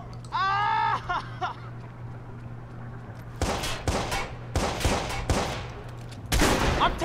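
Rapid gunfire erupts in the Watch Dogs video game as repeated bursts of shots strike in loud clusters during a firefight, following a brief faint tonal whine at the start.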